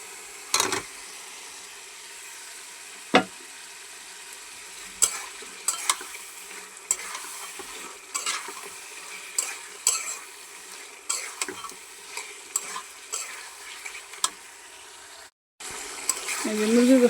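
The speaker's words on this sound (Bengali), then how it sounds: "এই যে মুরগির গোষ্ঠটা আমি ভালো করে কষাই নিছি" Chicken pieces stirred and fried in a spiced masala in a pan, with repeated scraping stirs and clinks over a soft, steady sizzle, heard close up, with a voice talking in places.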